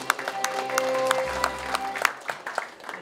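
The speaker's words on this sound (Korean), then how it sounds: "큰 박수 부탁드립니다" Clapping hands spread through a room at a year-end banquet, a steady patter of applause with a low hum and some sustained tones running underneath.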